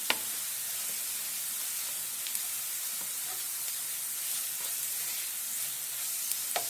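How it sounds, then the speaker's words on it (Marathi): Chana masala with red chilli, cumin powder and garam masala sizzles steadily in a hot pan while being stirred, a continuous close frying hiss with occasional scraping clicks and no talking. "गरम मसाला एक चमच चांगले परतवून घेऊया"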